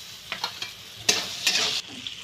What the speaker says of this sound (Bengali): পেঁয়াজ আদাটা ভাজা হয়ে গেছে